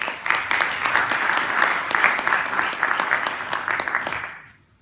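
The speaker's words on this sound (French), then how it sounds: "vous pouvez les applaudir absolument" Audience applause at a Green IT Day workshop on water and energy, a dense steady wash of clapping from a room of listeners that holds for several seconds and then tapers off to silence near the end.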